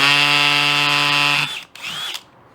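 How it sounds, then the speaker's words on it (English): A power drill bores a hole while fitting car seats into a Honda Element, a loud, steady, high-pitched whine that cuts off abruptly after about a second and a half, followed by a short second burst. "grab the drill and get going"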